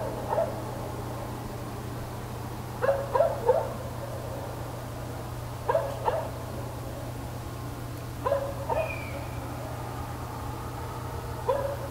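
Dogs bark at night in the distance, several short clusters of barks spaced out over a steady low hum, with faint crickets and a brief owl-like screech partway through.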